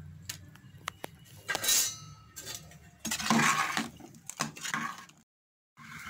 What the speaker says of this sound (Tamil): பாருங்கள் காயெல்லாம் நல்லா வெந்து வருது, கொதிச்சிட்ருக்குங்க